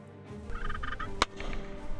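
A wild turkey tom gobbles in the woods and farmland of western Indiana during spring hunting, one loud rattling gobble rising from quieter calls, heard clearly without any talk.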